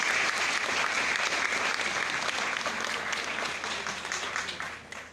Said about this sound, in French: Un tonnerre d'applaudissements pour vous